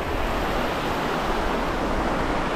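River water rushing along the Laugavegur Trail in Iceland, a steady broadband roar of flowing water, close and fairly loud, continuous with no talking.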